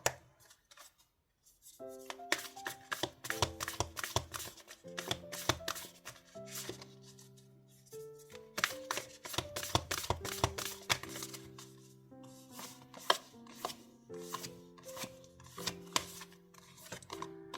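Tarot oracle cards shuffled by hand in quick riffling bursts, with crisp taps and flicks coming in clusters and short pauses between them, close up and quiet, with no talking.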